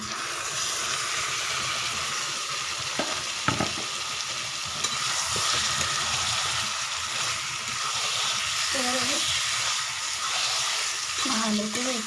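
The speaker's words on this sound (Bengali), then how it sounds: "এবার আমি এর মধ্যে দিয়ে দিচ্ছি ম্যারিনেট করা" Marinated chicken goes into hot oil in a pan, and a steady sizzle and frying hiss carries on close by. Occasional stirring knocks break in, and a faint voice is briefly heard in the background.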